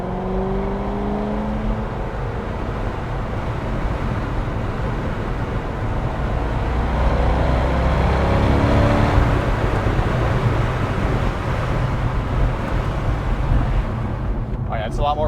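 Steady broadband rush of wind and road roar inside a moving C6 Corvette, swelling slightly midway with engine hum beneath, continuous and fairly loud throughout.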